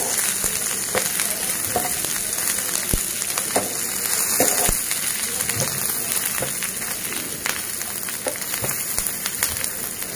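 Cumin and fennel seeds fry in hot oil in a pan for a Maharashtrian mutton dish, giving a dense, crackling sizzle with scattered pops and light stirring taps, close and continuous.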